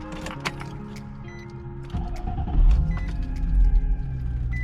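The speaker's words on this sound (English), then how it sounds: "Let's start this car up right here." A 2006-era Infiniti G35 fitted with a replacement clutch assembly cranks and fires up, engine rumble swelling to a steady, fairly loud idle after a faint whine and click, no talk.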